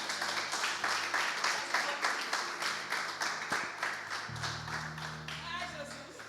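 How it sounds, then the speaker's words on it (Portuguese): A church congregation claps in a steady, even rhythm, a crowd close by keeping time together while a voice speaks over the clapping. "E dá uma linda salva de palmas para o Senhor"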